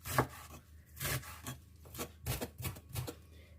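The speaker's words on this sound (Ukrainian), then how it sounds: "І теж поріжу такими ж самими отакими полосочками, як ми робили все." A knife slices a salad ingredient into thin strips on a board, producing about eight close, rhythmic chopping strokes with brief gaps and no talk.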